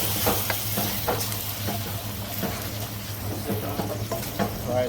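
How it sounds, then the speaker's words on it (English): Thai curry paste fries in oil over medium heat, making a close, continuous sizzle broken by intermittent scraping and stirring sounds. "So we will fry our curry paste."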